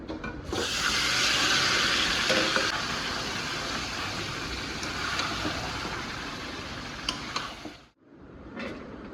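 Marinated meat frying in a pan, with a broad hiss and scraping stirs that are loudest early and fade, then a brief drop to near silence before the sizzle briefly resumes.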